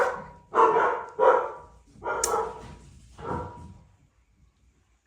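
Several dogs barking in bursts, five loud barks spread over a few seconds with pauses between them, fairly close and clear, then quiet.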